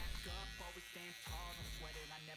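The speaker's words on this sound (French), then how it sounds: "je vais venir ensuite dégrossir avec mon trimmer" An electric hair trimmer roughs out hair during a mid-high fade haircut, a close buzzing hum that rises and falls in short repeated passes.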